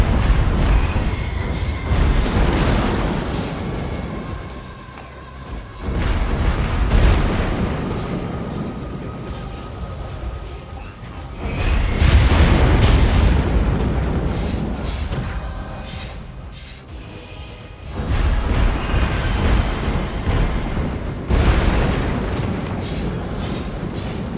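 Booming gunfire and explosions from The Falconeer video game, loud and continuous in surging waves that swell and fade over the clip, with heavy low rumble throughout.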